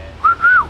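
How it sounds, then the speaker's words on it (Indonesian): Two short, bright whistled notes from a person calling someone, the second longer with a slight rise and fall, close and clear with no talking. "Siul."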